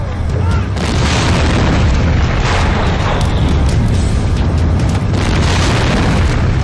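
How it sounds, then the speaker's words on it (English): A large storage tank, one of a pair about 25 feet tall, blows apart in a deep, loud boom that rolls on as a sustained roar and rumble with no pause. "Moments later, a second tank explodes."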